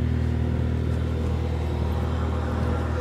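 A 1992 Honda Prelude engine idles steadily with a continuous low rumble and hum, close and fairly loud, with no talking.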